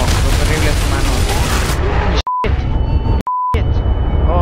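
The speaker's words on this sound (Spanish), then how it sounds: "Oh, son disparos." Gunfire in a Counter-Strike zombie escape match, heard as loud dense bursts of shots and booms mixed with game music, with short beeping tones cutting in near the end.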